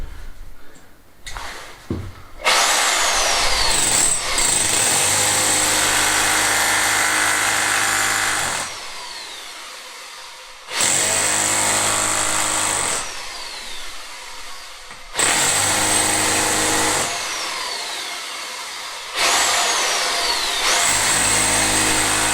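A loud hammer drill chisels into a damp wall in long bursts separated by short pauses, its harsh rattling whine filling the room, with a few quiet knocks at the start.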